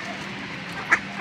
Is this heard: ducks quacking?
yes